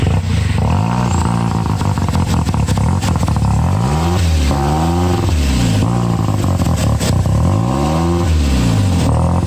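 A Porsche 944 with a 1.8 turbo engine revs hard and repeatedly near the microphone, each blip sweeping up and falling back in a rough rhythm over a constant loud idle, with no talking.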